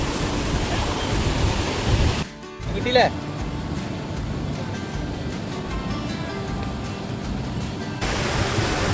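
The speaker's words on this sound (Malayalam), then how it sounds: "വെള്ളം നല്ല ശക്തിയിൽ ഇങ്ങനെ കുത്തി ഒലിച്ച് പോവുകയാണ്." Strong, steady rushing of a rain-swollen river in Wayanad fills the clip with broadband roar, briefly dipping near the start, with faint voices underneath.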